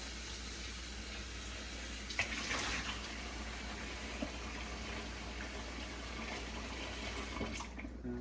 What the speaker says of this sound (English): I'll turn off this water now after I rinse.